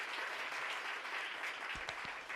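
Applause from a studio audience at a crypto livestream show, a steady broadband patter of clapping that stays fairly even throughout, with a few low knocks near the end.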